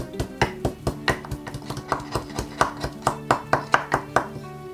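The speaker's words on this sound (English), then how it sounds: "Next we're gonna mince the garlic, salt, pepper. Let's crush the garlic." Garlic is crushed and minced with a knife on a board, about twenty sharp chopping strikes close by in a fairly even, quickening rhythm.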